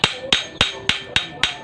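A hammer taps a Keihin 28mm carburetor six times in a steady rhythm, each a sharp metallic clink spaced about a quarter second apart, close and clear with no talking.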